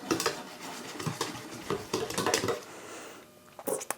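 Apple fritter ingredients mixed in a bowl with a utensil, quick close clinks and scraping taps against the bowl in a busy irregular rhythm, easing off briefly before a few final knocks.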